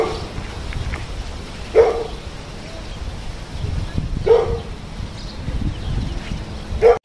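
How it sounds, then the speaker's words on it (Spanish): Dogs at a riverside campsite near Tarifa bark in a few sharp, agitated bursts spaced several seconds apart, at moderate distance over outdoor background noise. "Y sus perros alterándose."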